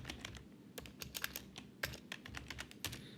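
Quiet, close typing on a computer keyboard, irregular bursts of light key clicks with short pauses between words.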